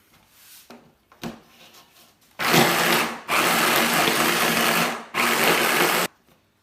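A blender whirs loudly in three back-to-back bursts of a few seconds each, grinding brewer's yeast powder into a paste for a vegetable pâté, after a few soft handling noises at the start.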